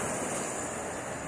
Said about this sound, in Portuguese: onde as comportas estão abertas. E aqui essa água está indo aqui em direção ao Rio Salgado